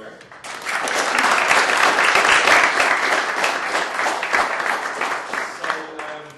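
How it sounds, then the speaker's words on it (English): A room full of tech conference attendees applauding, a dense burst of clapping that swells quickly and holds for several seconds before tapering off. "First things first, a round of applause for Nemo here."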